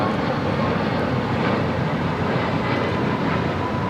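A Southwest Airlines Boeing 737 MAX 8 takes off at LAX, a steady, loud broadband engine roar heard from some distance, holding constant throughout without voices.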